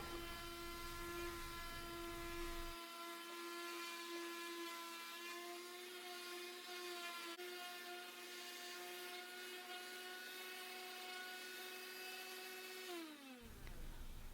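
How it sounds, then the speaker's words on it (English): A power sander working the surface of a wooden charcuterie board under repair, a loud steady high-pitched whine that runs close and continuous, then spins down near the end. "Once I've sanded the entire second side, then I will go through and blow all the dust and grit off the entire board."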